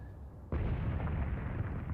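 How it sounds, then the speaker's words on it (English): Artillery shells landing in the Graviteam Tactics: Mius Front war game, one sudden loud blast followed by a sustained, rumbling wash of explosions. "don't think that's my artillery that had fallen up to the northeast there"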